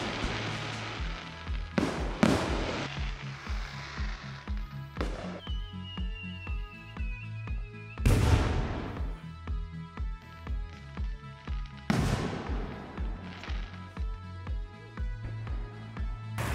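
A nighttime fireworks show near the coast in Izu, Japan: a handful of loud, booming bursts, each with a crackling tail, spaced several seconds apart over a steady tonal background.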